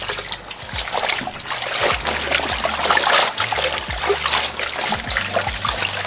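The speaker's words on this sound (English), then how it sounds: "you just wanna agitate these greens until they are clean" Greens are swished by hand in a basin of salted water, producing close splashing, sloshing and trickling with a steady agitated rhythm throughout.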